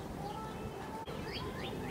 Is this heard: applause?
no